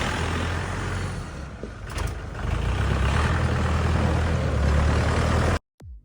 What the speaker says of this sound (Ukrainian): Скаут 504 вже їде до свого власника.